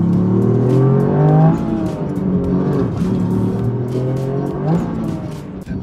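Toyota GR Yaris engine revs loudly up and down, rising harmonic sweeps climbing and falling in repeated pulls, close and dominant with no talk over it.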